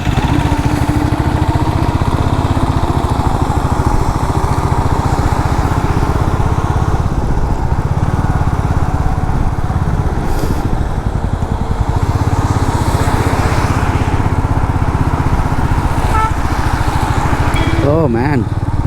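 Motorcycle engine on a solo ride through foggy Munnar on a ghat road in December, a steady close droning rumble running loud and continuous throughout, with brief wind buffeting and a faint higher tone near the end.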